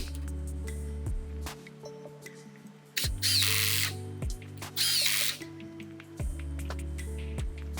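Power drill driving 3.5-inch screws into a wooden solar array frame, with bursts of whirring at close range separated by pauses and clicks.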